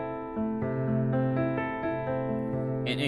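A piano plays a 6 minor chord over the 1 root, sounding as a few sustained chord strikes with gentle repeated attacks, clear and close at moderate volume.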